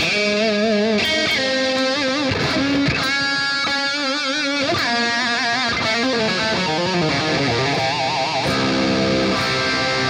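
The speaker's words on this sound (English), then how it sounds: "The lead tone is pretty similar to the rhythm tone, just a little bit more boosted" A boosted, distorted electric guitar lead tone with delay, made with stock Logic plugins, plays a line with bends and sustained notes over a full, dense backing, loud throughout.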